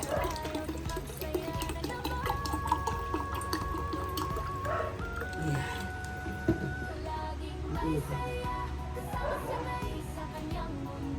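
Cold water pours steadily, a constant rushing stream that runs for the whole stretch under a busy indoor background with faint tones and clatter.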